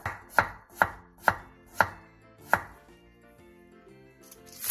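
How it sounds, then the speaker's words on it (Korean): Knife slicing a whole pickled radish (danmuji) on a cutting board: five sharp, evenly spaced chops close up, then a quieter pause and a final soft cut. "통 단무지를 길게 반으로 가른 뒤 먹기 좋은 두께로 썰어주세요"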